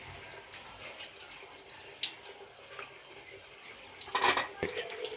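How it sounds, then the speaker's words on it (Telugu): Running tap water splashes into a bowl as vegetables are rinsed in a home kitchen, a soft continuous trickle with small clinks and handling noises, growing louder near the end. "ఇగో ఒక బౌల్లోకి అయితే మంచిగా కడుక్కొని ఇందులో వేసుకుంటున్నా"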